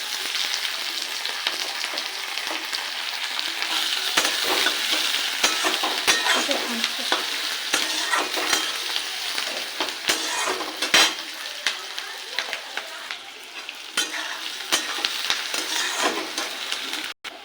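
Chopped onion and green chili fry in hot oil for an egg tadka, giving a loud, continuous sizzle broken by frequent spatula scrapes and clinks against the pan, with no speech.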